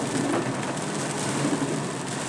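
Steady, dense rain from a flooding storm in Barreiras, Brazil, pours down in a continuous broadband hiss, loud and unbroken, with no voices.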